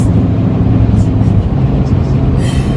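Inside a car cruising on a long highway road trip: a loud, constant low rumble of engine and road noise with a faint hiss of tyres and air, and no talking.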